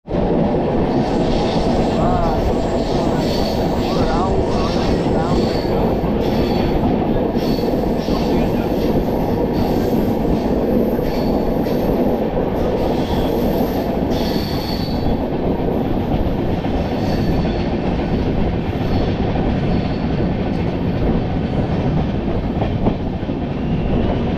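The 15959 Kamrup Express passenger train runs on rails between Kolkata and Dimapur, heard from on board as a loud, continuous rumble with rattling wheels and clicking over the track joints throughout.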